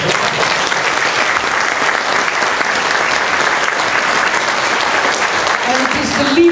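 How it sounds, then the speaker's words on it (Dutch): Audience at a book presentation breaking into loud, sustained applause, dense and even throughout the room with some cheering voices mixed in. "Dat is Dames en heren, applaus voor Ad Groot"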